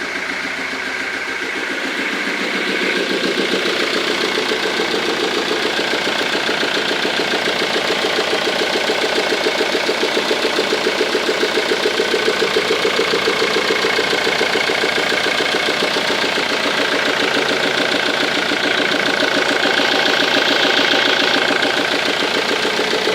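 A Ford Mondeo 2.0 TDCi diesel engine idles steadily up close with its air box removed, a continuous, loud, even clatter with a rhythmic diesel knock and strong air-intake hiss that settles in after a quieter first few seconds.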